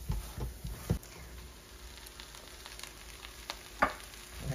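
Scrambled eggs and sausage sizzle softly in a pan, a quiet steady frying hiss broken by occasional sharp clinks and scrapes of a utensil stirring.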